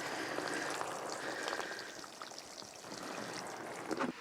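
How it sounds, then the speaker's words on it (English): Water trickles and patters steadily into a tray of seedlings, a soft continuous splashing wash that holds at an even level throughout with no voices. "and I water into the tray."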